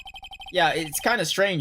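A phone ringtone from the Phoenix Wright Ace Attorney video game plays a quick train of short electronic beeps that is then cut off as a voice starts talking over it.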